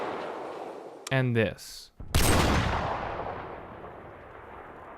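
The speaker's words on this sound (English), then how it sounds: "Minor things like mechanical bolts and slides are amplified, along with the initial crack and the traveling noise of the bullet." A single loud, exaggerated video game gunshot bursts out after a brief spoken phrase, its sharp crack followed by a long, fading rumble that trails away.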